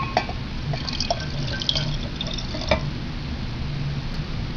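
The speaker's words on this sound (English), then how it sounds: "I'm going to pour in about half a cup of reserve kombucha." Reserve kombucha poured into a glass jar for a one-gallon home batch, giving soft drips and splashes of liquid over a steady low hum, with no one talking.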